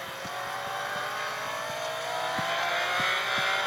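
A car accelerating in a Ferrari racing video game: a steady, moderately loud engine drone whose pitch creeps gradually upward, with faint low thumps ticking beneath it.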